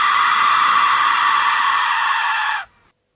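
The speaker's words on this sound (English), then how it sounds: "why on earth someone had a whistle that sounds like this" An Aztec death whistle lets out a loud, harsh, piercing scream-like shriek, sustained at full strength for about two and a half seconds before cutting off sharply into silence.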